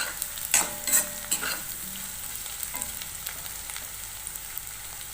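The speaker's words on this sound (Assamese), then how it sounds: "আলুখিনি অলপ সময় ভাজি" Potatoes frying in a pan while being stirred, with a soft steady sizzle and a few louder scraping clicks near the start, fading to a quiet even hiss.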